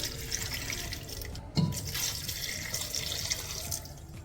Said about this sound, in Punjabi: ਦੋ ਗਲਾਸ ਪਾਣੀ ਪਾਏ ਸੀ